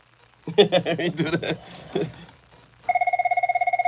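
A brief murmur of voices, then a telephone rings with a fast electronic trill, a single clear ring that stands out alone.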